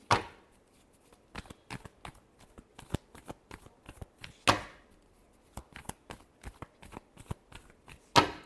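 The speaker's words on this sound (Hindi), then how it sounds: "last shuffle" A deck of cards shuffled by hand, with quick riffling bursts and crisp snaps close by, coming in irregular clusters with brief pauses between them.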